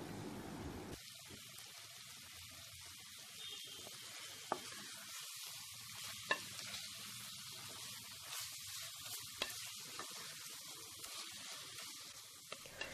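Onions and tomatoes sauté in a pan, a faint, steady sizzle with occasional small ticks and pops, fairly distant and quiet, no speech.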